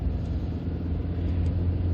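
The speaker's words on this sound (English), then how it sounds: "Just accelerating away now up to the national speed limit." A 1999 Audi A4 1.8 SE B5 saloon with 155,000 miles pulls away toward the national speed limit, its engine a steady low rumble with a smooth rising drone heard from inside the cabin.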